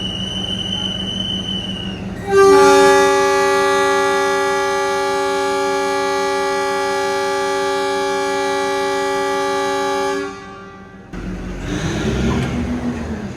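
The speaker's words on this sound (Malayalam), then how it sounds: "ആ വിസിലൊക്കെ അടിച്ചിട്ട് ആ ഹോണൊക്കെ അടിച്ച് നല്ല രസമുണ്ടായിരുന്നു കേൾക്കാൻ വേണ്ടി" A Kangra Valley Railway train sounds at departure: a short whistle, then a loud, sustained, steady horn blast lasting about eight seconds before it cuts off and engine rumble follows.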